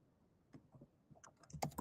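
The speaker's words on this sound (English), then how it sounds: "I hear Greg typing." Greg types on a computer keyboard, a quiet flurry of irregular clicky keystrokes heard faintly at first and then growing denser and louder toward the end, with no talking over it.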